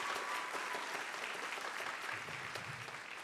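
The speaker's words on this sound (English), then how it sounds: "We missed applause for one little quick solo in the back." Audience applause for a drum solo at a winter band concert, a steady, fairly faint patter of many hands clapping that keeps going and tapers slightly toward the end.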